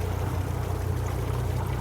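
Five Mercury Racing 400 horsepower Verado outboard engines idle together on a Nor-Tech 452 Superfish, a steady low rumbling drone mixed with water wash, even and continuous with no voices.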